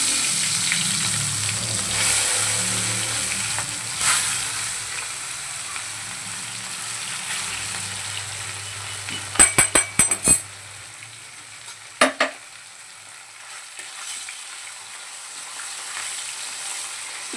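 Fish frying in a pan for a home lunch, a steady close sizzle broken by a few sharp clinks of utensils against the pan partway through.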